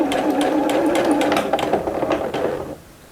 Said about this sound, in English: lower the presser foot, and stitch across